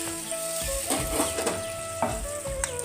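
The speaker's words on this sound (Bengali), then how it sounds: "তো চলো এবার জলটা দিয়ে দেবো আলুটা আর গাজরটা সিদ্ধ হওয়ার জন্য" Water meets a hot pan of potatoes and carrots cooked for a dalia upma breakfast, giving a close, busy sizzle with repeated stirring scrapes and soft knocks throughout, no voices.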